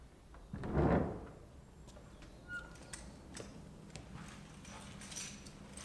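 A big old wooden church door at Clayton Church swings open with one low, heavy creak and thud near the start, then fades into quiet indoor room tone with a few faint clicks.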